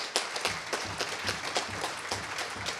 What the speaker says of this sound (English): So please give them a round of applause if you would.